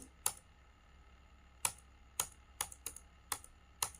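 Several crisp, separate keystrokes sound on a computer keyboard at an accounting desk, spaced irregularly over quiet background, with one sharper press landing like the Enter key.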